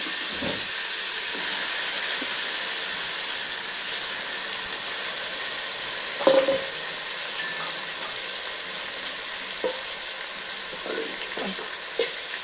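Mutton sizzles steadily in a hot pan while being fried for a village-style biryani, a constant hiss with a few faint clinks and scrapes of stirring.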